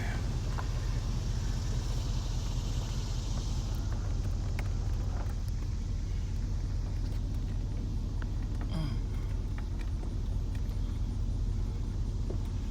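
A vehicle idles and rumbles while backing up to unload in front of a BMW, a steady, loud low engine drone that keeps going throughout with only faint scrapes and knocks on top.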